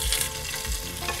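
Ginger, garlic and green chili paste frying on a low flame, giving a steady close sizzle with light stirring.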